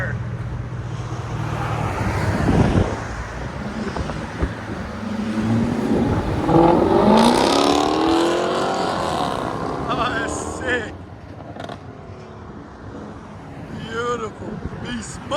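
A straight-piped Jaguar V8 car engine snarls and revs loudly, rising in pitch through a long pull then settling, with a person talking over the engine.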